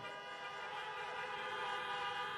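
Several car horns honk together at a drive-in political rally in Pittsburgh, a sustained, overlapping blare, steady and fairly distant.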